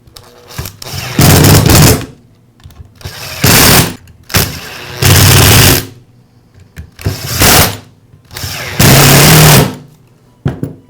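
A DeWALT angle grinder with a newly replaced power cord runs in several short bursts, each a loud, close motor whine that spins up, holds for about a second and winds down, separated by quiet pauses.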